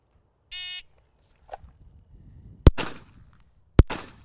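Two sharp rifle shots ring out against a steel combat training target, each a loud crack followed by a bright metallic ring that decays, after a short buzzer tone and quiet pauses.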